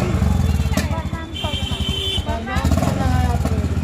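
A Honda H'ness CB350 Anniversary Edition motorcycle starts at a delivery and settles into a steady, loud, close idle, with people chatting around it.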